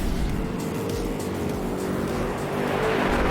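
Lamborghini launching hard in a drag race against other cars, a dense roaring engine and tire noise sustained throughout at steady high level.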